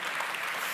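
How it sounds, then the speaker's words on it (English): Brief burst of dense, steady audience applause welcoming someone speaker at the EPD 2024 event, a full room clapping evenly throughout with no voices. "I think she really deserves an applause, so let's give it to her."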